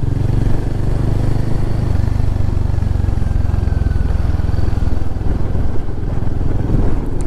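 A Royal Enfield Himalayan 450 motorcycle rides along on a mountain road, its engine a loud steady thrum with constant wind rush, heard close from the rider's position.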